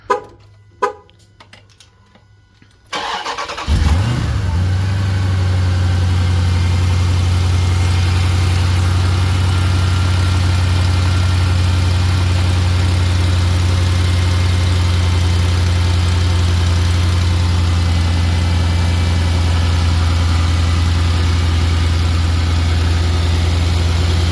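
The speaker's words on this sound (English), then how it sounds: "let's go ahead and get a cold start" A supercharged Hellcat engine swapped into a Jeep fires up from a cold start and settles into a loud, steady, deep rumbling idle that continues unbroken for about twenty seconds after a few quiet clicks.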